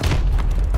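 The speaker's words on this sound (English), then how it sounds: "Friendly missile strikes incoming." Deep, rumbling booms of missile strikes fill a busy multiplayer match of Call of Duty: Advanced Warfare, a dense, loud, continuous low-end roar with no break across the short moment.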